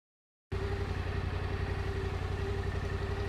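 An adventure motorcycle engine starts up and settles into a steady, close idle to warm up before an oil change, a continuous low rumble with an even pulsing note after half a second of silence.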